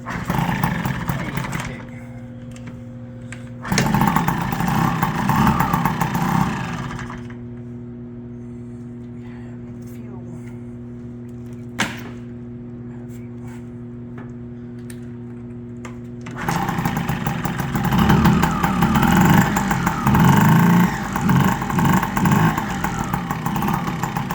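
A brand-new motorcycle engine fires up and runs loudly, then settles into a quieter, even idle before revving back up to a strong roar near the end.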